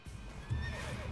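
A horse in Assassin's Creed Origins whinnies and its hooves clip-clop in a gallop, all within about one second, close and clear over the game's ambient sound.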